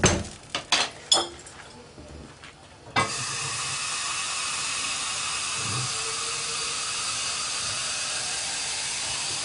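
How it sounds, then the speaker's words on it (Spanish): Water poured into a hot pan of mushroom fideuá: a few clinks and stirring knocks, then a sudden loud, steady sizzle and hiss that holds to the end. "Yo voy a añadir un poco más de agua, ya que me parece que es poca agua."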